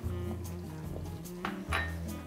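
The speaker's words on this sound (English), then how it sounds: "just stir until literally they dissolve" Anchovies and oil are stirred in a pan, giving a run of light metallic clinks and scrapes from the utensil against the pan over a low background hum, with one brighter clatter near the end.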